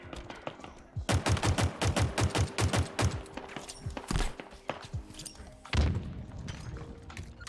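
Rapid automatic gunfire in a first-person shooter video game, a close burst of quick sharp shots followed by scattered single cracks and thuds, with no voices over it.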